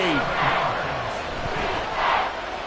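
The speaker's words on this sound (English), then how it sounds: "this crowd making it hard to hear" Loud stadium crowd roaring at a Panthers vs Falcons football game, a dense, swelling wall of cheering that peaks in waves, with a commentator's voice talking over it.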